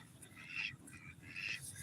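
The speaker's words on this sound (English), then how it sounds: "these are our ducks" Farm ducks on an evening barnyard quacking in two short bursts, faint and somewhat distant against a low background hum.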